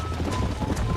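Horses' hooves in the video game Red Dead Redemption: a quick, continuous clip-clop of galloping hooves over a dense background rumble, fairly loud and steady throughout.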